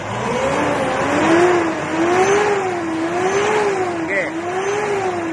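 A car engine is revved repeatedly to about 4,000 RPM in a smoke test, its note surging and falling in a wavering rhythm, loud and close throughout.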